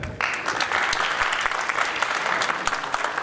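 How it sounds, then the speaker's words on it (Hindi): An audience claps for a theatre performance by Rangshala in Jammu, a dense, steady wash of many hands that starts abruptly just after a brief quiet lead-in and keeps going without letting up. "आप अपने लिए तालियां बजा दीजिए"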